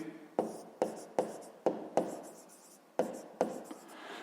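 A pen scratches across paper while a grade-five maths exercise about fabric for a suit is worked out, with about eight distinct close strokes in an uneven rhythm and no talking.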